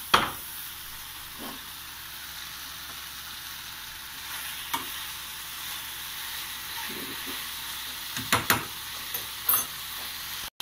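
Mixed vegetables stir-fry in a pan under a continuous hiss and sizzle, broken by scattered utensil clanks and stirring knocks, with one loud clatter at the start and a cluster near the end.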